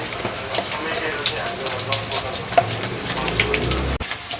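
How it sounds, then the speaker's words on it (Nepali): Pieces of fish fry in hot oil for a spicy fish curry, giving a steady crackling sizzle with occasional spatters, while a person talks over it. "मेरो माछाको फ्राई अब रातो भइसक्यो"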